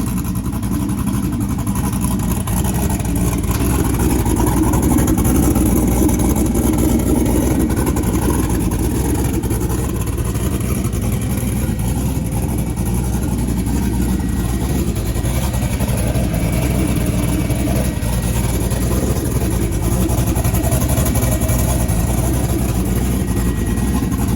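A rebuilt Chevy Blazer engine runs at a steady, rumbling idle throughout, close and loud with no change in pace.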